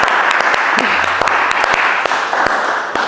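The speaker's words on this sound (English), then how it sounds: "So I think all of you deserve a round of applause." A room of real estate agents breaks into loud, dense applause, steady and close, a few sharper claps standing out, with a faint voice briefly underneath.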